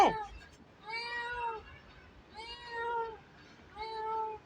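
Three clear, plaintive meows from a cat sulking for milk, evenly spaced and close by, each one long and wavering, with quiet gaps between them.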